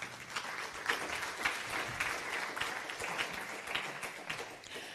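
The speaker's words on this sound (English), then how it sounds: "give them an encouraging round of applause" Audience at a statistics conference gives a round of applause, a fairly quiet, distant spread of clapping that stays even for about five seconds.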